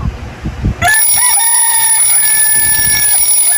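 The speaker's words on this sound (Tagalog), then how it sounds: "ginising na naman tayo ng alarm clock na akala mo may galit sa'yo" An alarm clock starts ringing in the morning after a moment of muffled low sounds, then keeps up a loud, continuous, piercing electronic tone.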